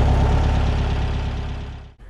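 An air-cooled VW Beetle engine idles steadily after a carburetor idle-screw adjustment, a close, even low putter with a regular pulsing rhythm that holds for about two seconds before cutting off briefly near the end.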